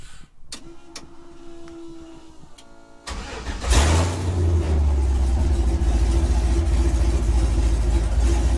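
A Ford Ranger 4x4 race truck with a swapped 5.3 LS V8 cranks and catches after a quiet stretch of faint clicks, then settles into a loud, steady, close idle.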